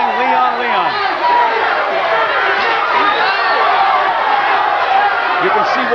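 A large crowd at a Leon Spinks boxing match roars and chants continuously, with a commentator's voice talking over the dense crowd noise.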